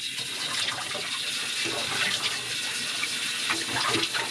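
Cold water runs steadily from a bathroom sink tap, a continuous hissing splash that stays close and fairly loud throughout, with no talk.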